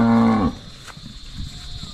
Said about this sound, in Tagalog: Enjoy po yung mga baka natin na nakalabas mga kaprobinsya